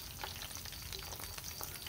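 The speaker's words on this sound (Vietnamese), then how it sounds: "Rồi thịt dê chay mình cũng cho chơi vô đặng mình sơ chế mình chiên luôn." Vegetarian mock goat meat frying in a pan, a steady close crackling sizzle with dense popping, no voices.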